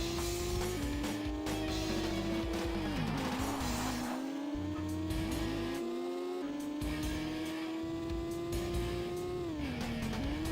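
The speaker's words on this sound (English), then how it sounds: "The engine noise has changed throughout the game" Video-game car engine from World Driver Championship on the N64, a steady synthesized whine that sweeps up and down with shifts and a dip during a spin-out, alongside tire squeal and skidding, loud and continuous with no talk.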